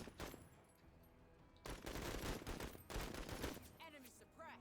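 Machine gun fire in the tactical game Menace: sustained rapid bursts come in several loud stretches with brief gaps, mixed with game effects and faint voices.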